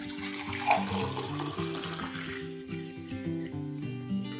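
Water poured from a tumbler into a pot for cooking black rice for a halwa, a steady splashing pour under a low musical backing, with no voices.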